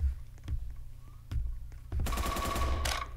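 AK-style rifle gunfire in a video game: a few isolated sharp shots early on, then a dense rapid burst of automatic fire near and loud, with a brief pause before it resumes.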